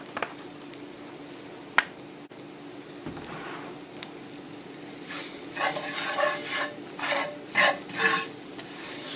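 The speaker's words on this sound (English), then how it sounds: "So I'm just going to add a little bit more oil to that." Liver and onions frying in a pan with extra oil added, quiet sizzling at first, then bursts of louder crackling and spattering as the pan is stirred.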